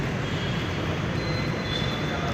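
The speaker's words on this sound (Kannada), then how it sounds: "ನಮ್ಮ ಮೆಟ್ರೋ ರೈಲು ನಿಲ್ದಾಣದಲ್ಲಿರೋ ಮೆಟ್ರೋ ರೈಲು" A steady, continuous rumble and hum of a metro train at a Bengaluru Namma Metro station, with no distinct breaks.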